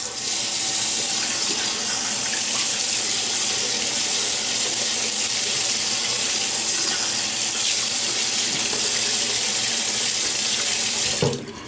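A bathroom tap runs steadily into a sink as the face is wetted before a shave, a loud close continuous stream that cuts off abruptly at the end.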